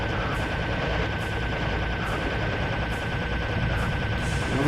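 Rapid, continuous gunfire in the video game Serious Sam rattles without pause, dense bursts blending into a steady loud barrage with faint rhythmic thuds beneath.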